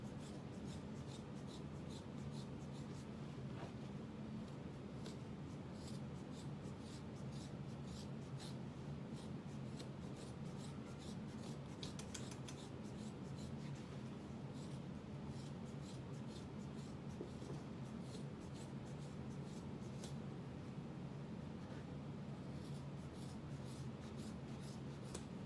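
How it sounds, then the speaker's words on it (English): Scissors slowly cut through leather for a bucket bag, a long run of faint close snipping and rasping crunches repeating irregularly over quiet background, with no speech. "you might want to use a sharper pair of scissors because it can be a lot to cut through."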